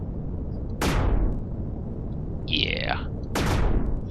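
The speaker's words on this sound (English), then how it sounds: "the railgun is really effective against the cannons, as you can see" Railgun shots in the space game Empyrion, fired at enemy cannons: two sharp, loud discharges about two and a half seconds apart, each trailing off in a falling whoosh, with a brief warbling tone between them. A voice speaks briefly.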